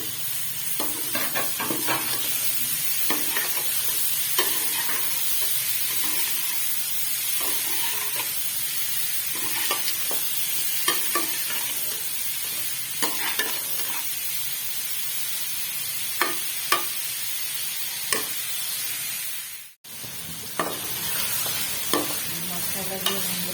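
Chopped tomato and capsicum fry in oil for a desi masala pasta, a steady close sizzle with repeated spatula clicks and scrapes as the mix is stirred, and a brief dropout near the end.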